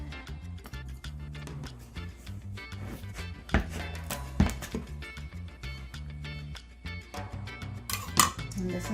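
A knife peels and slices cooled cooked breadfruit on a board, with irregular soft strokes and a few sharper clicks of utensils, close up.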